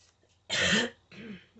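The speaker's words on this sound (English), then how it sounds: "this cough still got me" A single harsh cough bursts out close by, followed by a softer throat-clearing rasp.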